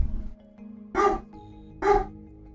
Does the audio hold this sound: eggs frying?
no